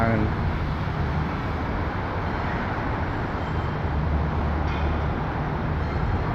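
A train rumbles past in the Bang Sue rail yard, Bangkok, with a steady, heavy roar and rolling wheel noise, loud and continuous throughout.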